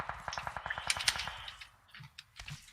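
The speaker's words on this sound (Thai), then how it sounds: "ยิงกันอยู่" Rapid bursts of gunfire crackle during a PUBG Mobile match near a village, a quick run of shots followed by a few scattered, fainter reports.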